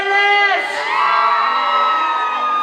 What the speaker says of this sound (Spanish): Un grito a las chicas fieles.